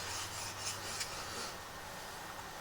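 A blade rubs back and forth on a wet sharpening stone in a few short, even strokes, a soft gritty rasp heard close and alone.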